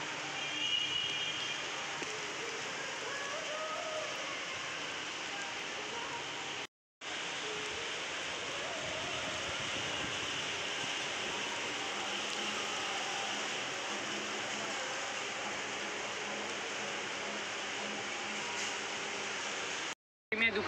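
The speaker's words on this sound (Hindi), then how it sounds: "अभी हल्का हल्का बूंदाबांदी स्टार्ट हो चुकी है" A steady hiss of light rain falls continuously, broken by two brief silent gaps, with faint voices murmuring under the rainfall.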